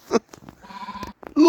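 Sheep bleat at close range on a farm, a couple of nasal calls standing out amid scattered talking and background noise.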